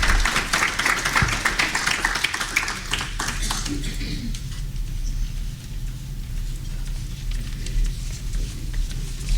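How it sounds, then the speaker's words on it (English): An audience at a legislative session business forum gives a round of applause for a state representative and senator, with brisk clapping that tapers off after a few seconds into a quieter room hum. "A nice round of applause for Representative Ruiz and Senator Gorsek"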